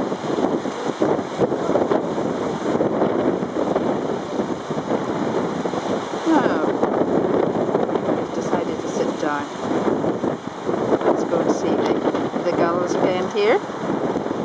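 A gale blows hard across a seaside spot near a pier, a steady loud rush of wind buffeting the microphone throughout, with bird calls faintly audible in the second half.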